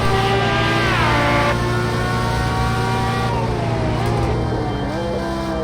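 The V12 engine of a 1988 Jaguar XJR-9 Le Mans race car roars loudly at close range, its pitch climbing through the gears and dropping with each shift.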